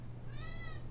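One short, high meow from a pet cat in a home office, heard over a low, steady background hum.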